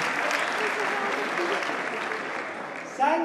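Steady audience applause at a careers event fills the room, fading slightly before a voice cuts in at the end.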